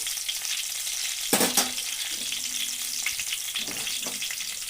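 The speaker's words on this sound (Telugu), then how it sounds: "ఇది ఒకసారి ఇలా కలుపుకుని ఇప్పుడు మనం గ్రైండ్ చేసుకున్న మసాలాను వేసుకోవాలి" Ground masala of cumin, coriander, ginger, garlic and onion fries and is stirred into green chillies and curry leaves in a pan for a stuffed brinjal curry, giving a steady close sizzle with a few sharper scraping stirs.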